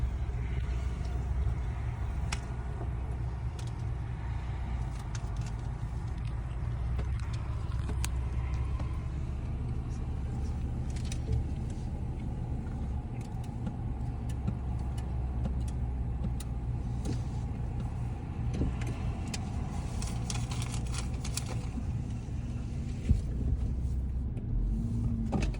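Chevron automatic car wash running in King City, heard from inside a car as a continuous low rumble and whir with scattered clicks and knocks, steady and moderately loud, no talking.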